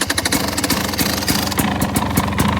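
Close, steady running of a 2021 KTM 300 XC-W two-stroke dirt bike fitted with an FMF pipe, idling with a rapid, even pulse and a throaty burble, no voices over it.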